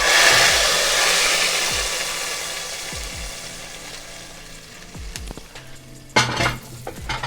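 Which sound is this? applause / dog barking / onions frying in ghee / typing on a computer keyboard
onions frying in ghee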